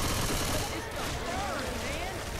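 Rapid gunfire rattles continuously in Left 4 Dead 2 on expert mode, dense overlapping shots from several weapons under a player's raised, hurried voice.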